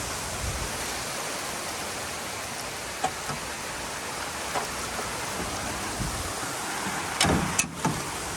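Rain pours steadily on and around a 1995 Jeep with 340k miles, a continuous hiss broken by a few soft knocks and a brief louder clatter near the end.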